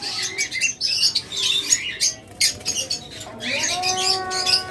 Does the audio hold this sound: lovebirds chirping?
yes